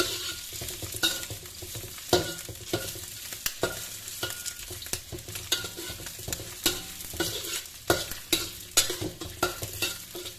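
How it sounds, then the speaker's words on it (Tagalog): Chicharon bulaklak sizzles and crackles in a pan as it fries, with stirring scrapes and irregular pops close by. "ipiprito muna natin ang ating chicharong bulaklak."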